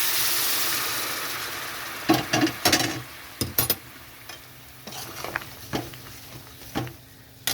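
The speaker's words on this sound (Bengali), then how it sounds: "এখানে আমি দিয়ে দিচ্ছি গরম জল পরিমাণ মতো।" Hot water poured into a pan of frying shrimp and pumpkin curry, with a steady hiss fading as scattered sizzles, pops and stirring clinks follow.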